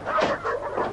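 Dogs bark and cry out at night, about three sharp yelping calls in one second, close and fairly loud.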